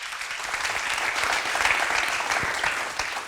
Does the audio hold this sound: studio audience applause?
yes